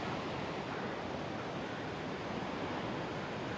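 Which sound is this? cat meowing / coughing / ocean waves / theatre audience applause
ocean waves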